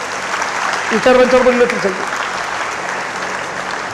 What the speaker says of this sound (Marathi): त्यांच्यासाठी एकदा जोरदार टाळ्या द्या.